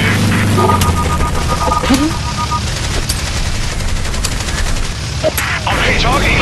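Dense bursts of machine-gun fire hammer at a warplane in the mobile combat game War Wings, loud and continuous over a steady engine drone, with sharp cracks and a few booms mixed in.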